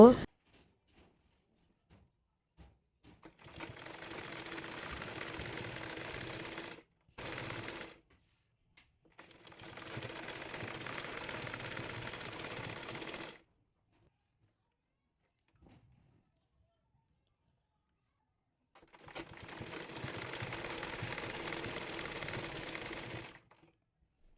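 A sewing machine stitches salwar fabric and lace in bursts, three long runs of steady whirring separated by pauses and one short burst between them, close and moderately loud, with no talking.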